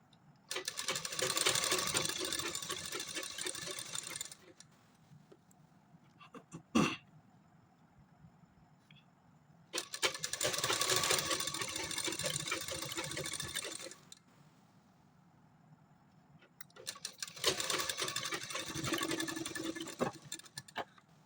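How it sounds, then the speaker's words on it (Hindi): A sewing machine stitches a lace edge onto pants made from an old salwar, running in three steady mechanical bursts separated by quiet pauses, close and with no talking. "लेस के सिर्फ किनारी को हमें स्टिच करना है"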